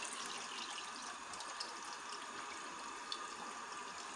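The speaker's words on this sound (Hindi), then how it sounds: "ये मैंने पानी डाल दिया" Water pours steadily into a cooking pot while preparing paya, a continuous rushing splash at close range with no break and no talking.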